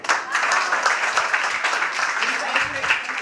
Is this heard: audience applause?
yes